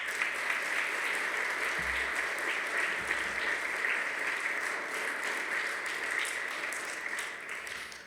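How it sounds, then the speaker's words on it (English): A school chapel audience gives a steady, sustained round of applause for its teachers, dense clapping from many hands filling the room and fading slightly at the end. "Can we have a round of applause for our teachers?"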